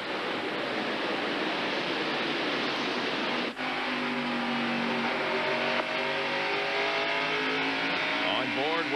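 A 1998 NASCAR stock car accelerates off the corner and down the front straightaway, its engine roar steady and loud with a rising whine building later, under a commentator's voice.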